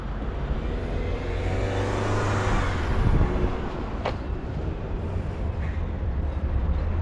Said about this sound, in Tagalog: Nandito na yung bus mga ka-Pinboy.